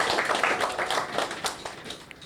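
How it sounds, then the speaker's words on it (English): An audience applauds at the launch of a music video featuring a secondary school band and choir, with dense, steady clapping from many hands throughout. "Let's give the Department of Sustainable Development a resounding round of applause"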